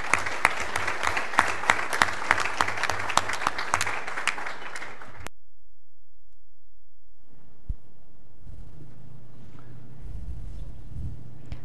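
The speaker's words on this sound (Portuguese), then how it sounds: "Uma salva de palmas para todos" Audience applause at a formal academic induction ceremony, a dense burst of many hands clapping for about five seconds that cuts off abruptly into near silence, followed by faint room noise and low rumble.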